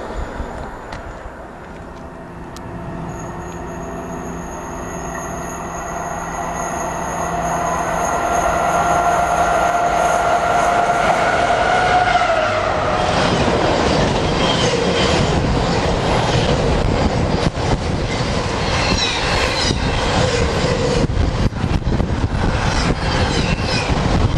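A Class 350 electric train heading from Crewe to London Euston approaches with a rising whine, then thunders past close by in a loud, sustained roar of wheels and rushing air.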